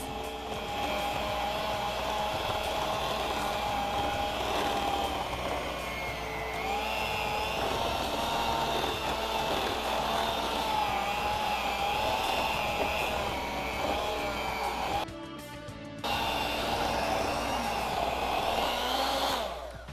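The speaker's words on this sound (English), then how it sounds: "I'm also moving the mixer around to the edges to scrape down the sides." An electric mixer beats frosting in a bowl, a loud, steady whirring drone that holds for the whole stretch, dropping out briefly near the end before starting up again as the beaters are moved around the sides.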